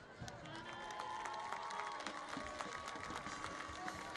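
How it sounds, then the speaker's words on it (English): A crowd claps and cheers for the 2018 high school homecoming court, a steady wash of applause with scattered whoops that carries on throughout, heard from within a large gathering. "Please give a final round of applause for our 2018 homecoming corps."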